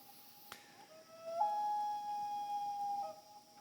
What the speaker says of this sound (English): Some of you may know this is the sound of loons. Loons are nocturnal birds.